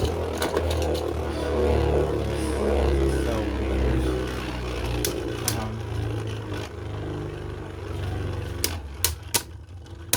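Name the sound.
Beyblade spinning tops launched and battling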